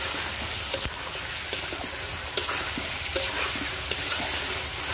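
Potato pieces frying in an oily pan, a steady hissing sizzle with occasional sharp pops and clinks, close and continuous.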